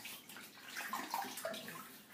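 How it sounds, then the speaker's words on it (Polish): Water from a tap splashes softly and steadily while hands wet a face before shaving. The sound is close and quiet, with small irregular splashes and trickles and no speech. "teraz zwilżę twarz, niech sobie zaraz wsiorbię wodę"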